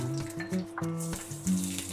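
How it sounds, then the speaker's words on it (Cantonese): Ginger slices stir-fried in a hot wok while cooking fish fillet, a steady close sizzle and crackle of oil with short bursts of stronger frying, no voices. "爆一爆啲薑片啦，有少少葱頭擺埋落去爆香"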